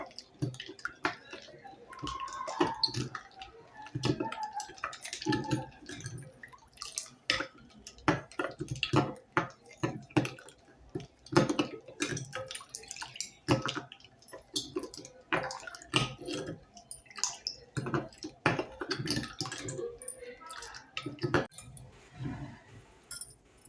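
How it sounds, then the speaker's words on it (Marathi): Busy clinking and tapping of a spoon stirring finely chopped watermelon pieces into a chilled milk sarbat, irregular knocks against the vessel with faint liquid sloshing. "कलिंगडचे बारीक केलेले तुकडे घालूया आता हे छान सर्व मिक्स करूया"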